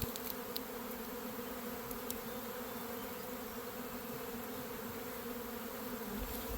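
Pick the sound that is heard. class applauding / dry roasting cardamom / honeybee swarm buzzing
honeybee swarm buzzing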